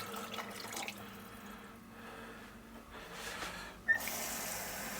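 Water poured into a container while a protein drink with collagen and pea protein is mixed, a steady close trickle running for several seconds with a brief sharp clink near the end.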